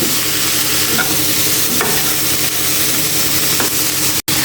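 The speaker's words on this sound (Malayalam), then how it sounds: "ഇതേപോലെ ഇങ്ങനെ ഇളക്കി ഇളക്കി ചീര നമുക്ക് വേവിച്ചെടുക്കാം." Spinach thoran stirred and frying in a pan, with continuous sizzling and a steady scraping stir close by, ending with a brief cut to silence.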